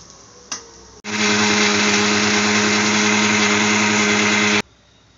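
An electric mixer grinder blends wet masala paste for a village-style mutton curry, a loud steady whirring roar that starts abruptly after a faint click, runs continuously for about three and a half seconds, then cuts off sharply.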